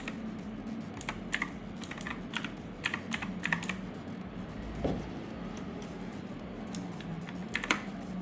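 Typing on a computer keyboard while setting up an IoT air quality monitor, quiet irregular clusters of key clicks over a faint background hum.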